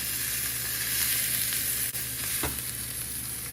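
Curry leaves and coriander fry in a pan for a roasted gram chutney, a steady close sizzle with a faint crackle throughout and no voices.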